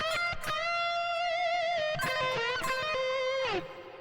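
Electric guitar lick from a solo, sustained bent notes with vibrato and quick picked phrases, played loud and close, solo instrument with no talking.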